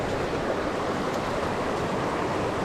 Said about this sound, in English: just take a look at how fast this water is.